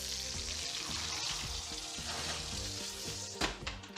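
Steak searing in a hot pan in a cooking competition, a loud steady sizzle and crackle that fills the whole stretch, close and continuous with no talk.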